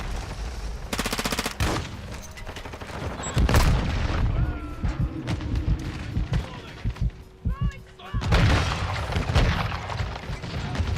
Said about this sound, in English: Ugh, fucking stun grenades.